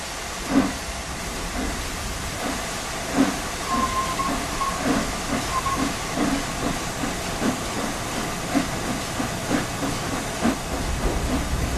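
In Train Sim World 4, a steam locomotive hisses steadily as the regulator opens, rhythmic chuffing beats repeating at an even pace, with a faint whistle-like tone briefly audible.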